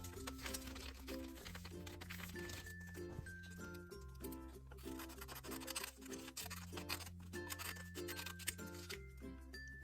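Scissors snipping strips of paper for a doll craft, a steady run of small crisp cuts heard faintly beneath continuous background music.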